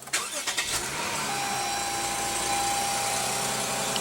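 Push-button start of a 2015 Lexus GS350 with a 3.5-liter V6: a short cranking burst catches quickly and settles into a steady, smooth idle that hums on close and loud to the end.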